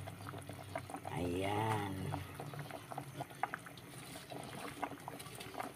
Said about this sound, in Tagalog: Dahil kumulo na siya ng kumulo guys